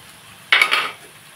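Ginger garlic paste dropped into hot oil in a pan for chicken curry gives a sudden loud sizzle that burst and fades within about half a second, with nothing else heard around it.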